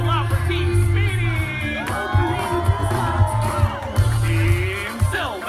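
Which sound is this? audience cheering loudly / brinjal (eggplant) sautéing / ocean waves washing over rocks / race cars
audience cheering loudly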